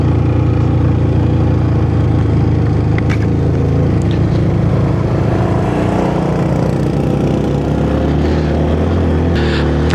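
A car engine pulls steadily in second gear up a cloud-covered mountain road near Darjeeling. A loud, continuous low drone holds for the whole stretch with little change in pitch.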